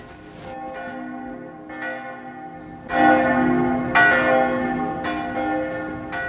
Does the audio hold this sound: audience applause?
no